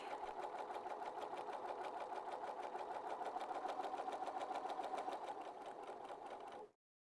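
A sewing machine stitches shirring on fabric, a steady, fast mechanical whir with an even rhythmic chatter that runs continuously at close range before stopping abruptly.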